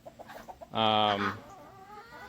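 Loud backyard chickens cluck, one bird letting out a strong, sustained squawking call close by, with a brief spoken word before it.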